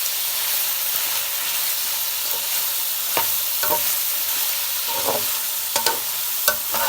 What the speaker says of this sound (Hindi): कीमा अच्छी तरह पक जाए और भून जाए, फिर उसमें शिमला मिर्च डालते हैं।